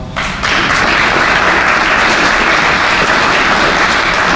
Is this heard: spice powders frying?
no